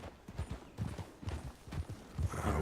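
Horse hooves in a RedM ranch roleplay game on a winter road thud and clop in a short, uneven series of close, fairly soft steps.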